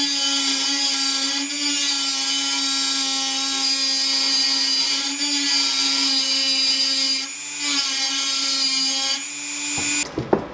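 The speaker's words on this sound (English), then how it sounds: "So I'm going to go ahead and use the Dremel to make all my cuts for the window." A Dremel rotary tool whines steadily as it cuts a window into a powder-coated Cooler Master HAF932 computer case, a loud continuous high pitch with brief dips in load and a clatter at the end.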